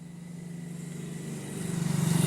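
Motorbikes passing by on a road: a steady engine hum that swells louder over a couple of seconds as a bike draws near.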